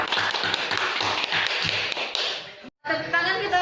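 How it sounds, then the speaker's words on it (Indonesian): Quick, light applause from a classroom group, a brisk run of close taps and claps that cuts off briefly, followed by a voice speaking after the pause. "Tepuk tangan kita kepada kelompok 1 yang telah mempresentasikan hasil jawabannya"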